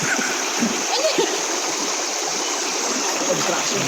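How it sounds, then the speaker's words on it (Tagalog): Rushing river current splashes steadily and close by, a continuous broadband wash with a few brief voice fragments breaking through. "Jen, baka tarayin ka ng agos"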